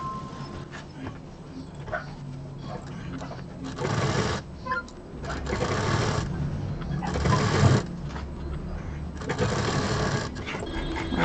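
Sewing machine stitching a zip onto a fabric bag, its motor running in several sustained bursts with brief pauses between them, close and moderately loud, with no voices.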